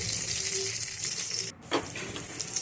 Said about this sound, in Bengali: কাজু কিশমিশটা দিয়ে আমি একটু লাল লাল করে ভেজে নেব।